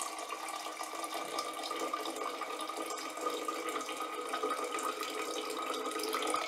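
Hot water, slightly overboiled, poured into a honey jar, a continuous steady splashing and gurgling stream that holds at an even, moderate level throughout, close by with no talking.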